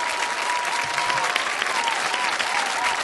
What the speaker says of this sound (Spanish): Aplauso para ellas, hermoso número.